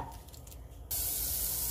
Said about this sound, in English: I'm gonna use 3 tablespoons of butter